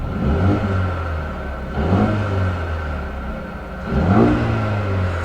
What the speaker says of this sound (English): Here is the exhaust. Let's see if you guys can hear this.